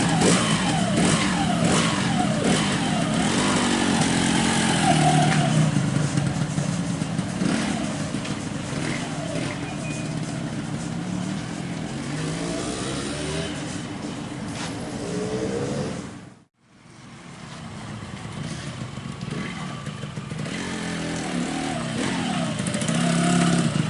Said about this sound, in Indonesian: sekarang kita coba akan tes dulu sebentar untuk motornya si Febri.